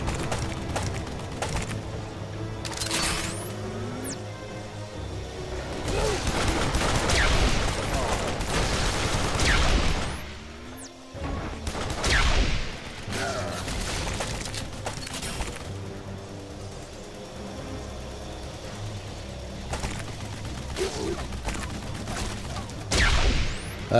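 Weapon fire in the first-person shooter Duke Nukem Forever, repeated loud bursts and booms in clusters over game sounds, with a voice talking at points.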